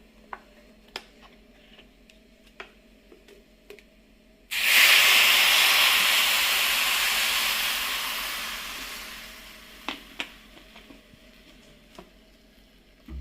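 A sudden loud sizzle bursts out as syrup is poured into a hot pan while making dried mango pickle, hissing strongly and then slowly fading over several seconds before a few light clinks.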